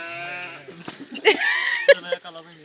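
Sheep bleat several times close by during shearing, wavering cries overlapping with people talking and laughing nearby.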